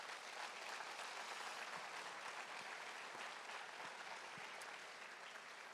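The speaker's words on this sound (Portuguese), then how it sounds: "Aplauda o Senhor nessa manhã." A church congregation claps together during a morning service, a continuous, fairly faint wash of applause with a few sharper individual claps standing out, heard without speech.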